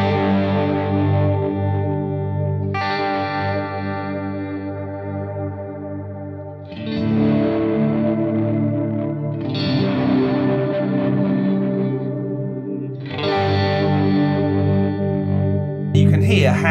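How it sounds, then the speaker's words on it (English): Sustained electric guitar chords through a Great Eastern FX Co. XO delay and reverb pedal ring out in several swells, each trailing into long echoing repeats and a wash of reverb, loud and alone. "we've got the del verb on the low end of things with delay and reverb"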